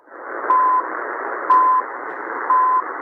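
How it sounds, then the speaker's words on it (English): CHU time signal received on shortwave in upper sideband, a hissy band of radio static with three short, clean beep tones spaced one second apart. "So here's CHU in upper sideband, okay?"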